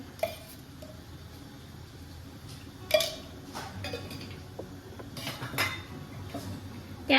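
A pan handled for tempering dal with cumin seeds and ghee gives a few sharp metallic clinks and knocks of utensils against it over a quiet background, with no speech.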